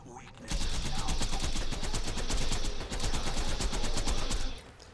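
Rapid bursts of fire from the Lyuda sniper rifle in the video game Borderlands 2 rattle out in a dense, fast rhythm for about four seconds before stopping.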